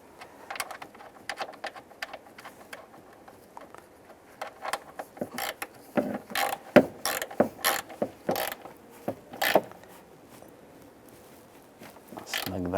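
Ratcheting clicks from a wrench snugging a nut down on a 2007-2013 Chevrolet Silverado during EVAP core replacement, in quick close bursts of metallic clicking separated by pauses, louder toward the middle.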